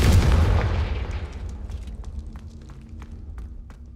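A Confringo blasting spell explosion in the Hogwarts Legacy video game opens with a heavy, close boom that rumbles away over a couple of seconds, followed by light scattered clicks and footstep-like taps.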